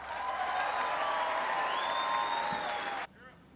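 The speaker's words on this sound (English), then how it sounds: "Give them a big round of applause." A large crowd of troops at an air expeditionary wing in Afghanistan claps steadily for about three seconds before it cuts off abruptly, leaving faint background murmur.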